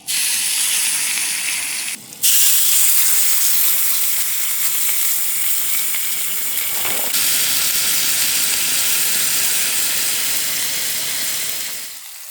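A big, juicy pre-marinated steak fries in a pan at a camp stove beside an overland camper, giving a loud, steady sizzle and hiss that runs continuously with a brief dip near the start, no voices.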